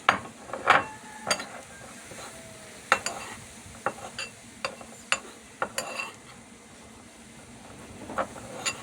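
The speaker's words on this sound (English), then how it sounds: "Get a spoon and mix in this here, guys." A spoon mixing baking powder into a bowl of pancake ingredients, a close run of sharp clinks and scrapes against the bowl in irregular bursts, quieter and sparser toward the end.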